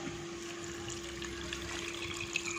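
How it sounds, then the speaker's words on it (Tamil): Steady water streaming and trickling into a pot of sautéed vegetables for biryani, a continuous liquid wash with a faint hum underneath, no voices. "தண்ணி ஊற்றிக்கிறேன்"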